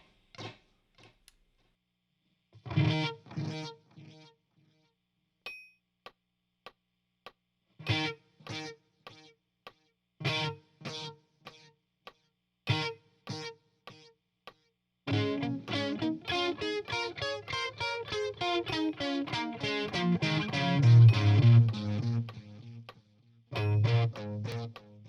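Electric guitar through a delay unit, with sparse plucked notes and chords ringing out in repeating echoes, then a dense rhythmic passage of strummed, echoing chords; clicks are hard to pick out, no voice.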